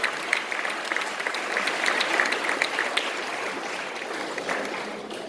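A school audience at an inter-house drama competition claps steadily for the directors, a dense, moderately loud applause with crisp individual claps that holds evenly throughout.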